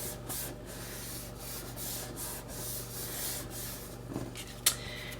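A paper card rubbed firmly by hand on a small desk while making a holiday card; steady close scratchy rubbing strokes in a regular back-and-forth rhythm, with a brief sharp tap near the end and no talk.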